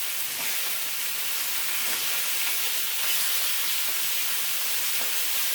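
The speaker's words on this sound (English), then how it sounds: "I'll put in my sliced thin ribeye steak in there to color." Thinly sliced ribeye steak sears in a pan with a tablespoon of oil, producing a steady, close sizzling hiss that holds evenly throughout without speech.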